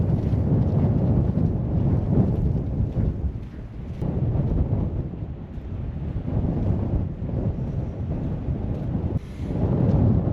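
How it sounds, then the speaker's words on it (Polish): Strong wind buffets the microphone outdoors beside a stuck van, a heavy roaring rumble with gusts that swell and ease over ten seconds, nothing else audible above it. "Strasznie wieje"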